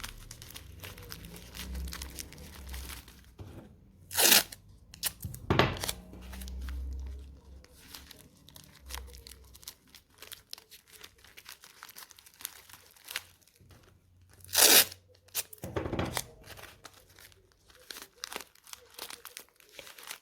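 Masking tape crinkles and tears in a few sharp bursts as it is pressed over a foil form for papier-mâché, with quieter rustling and pressing sounds in between, close by.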